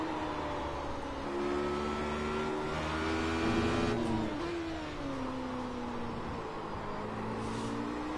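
Race car engine in the iRacing sim, held at a steady drone with rising and falling pitch as the throttle is balanced through a corner, continuous and fairly loud with no voices.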